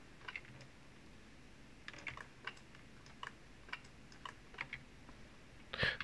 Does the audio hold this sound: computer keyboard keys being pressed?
yes